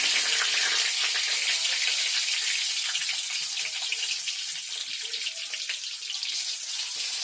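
Snake gourd pieces fry in hot oil with a bay leaf in a pan, giving a steady, loud, close sizzle with fine crackle that runs throughout without talk.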